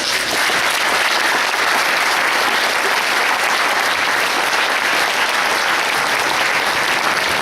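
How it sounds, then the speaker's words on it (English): Steady, dense applause from a sports crowd as the players come onto the pitch at an end-of-season player awards event, a sustained wash of clapping throughout with no voices on top. "give the players one last round of applause as they come on"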